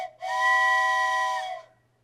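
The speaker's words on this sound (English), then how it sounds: "Plain old train whistle." A single bright, harmonic train whistle, used as a foley effect, blows for about a second and a half, close and loud, then cuts off into near silence.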